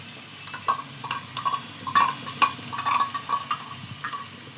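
Pointed gourd and shrimp fry with spices in a pan, a soft sizzle under repeated stirring scrapes and clinks of a metal spoon against the pan, close and moderately quiet.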